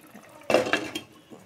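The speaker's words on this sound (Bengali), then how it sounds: "জলটা একটু বেশি দেবো কারণ বড়াতে ঝোল টানে।" Water poured into a pot of red lentil dal with lentil fritters, a short burst of splashing and clinking against the pot that quickly fades, close by and without talk.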